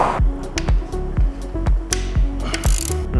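Ratchet and socket working a nut on a Honda NSX engine, a rapid, close series of sharp metallic clicks in a steady rhythm with small bumps and knocks, no talking.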